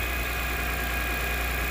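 A 2006 Lexus IS350 engine idles steadily up close, a constant low hum and even drone with no breaks or revving, alone without talk.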